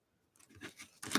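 Scissors cutting paper for an art journal, a couple of short, close, crisp snips that build to a sharper final cut, with no talking.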